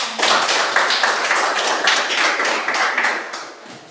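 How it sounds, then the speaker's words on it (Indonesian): A classroom group gives a burst of applause: many hands clapping together, loud and close, holding for about three seconds before tapering off. "kita beri aplaus"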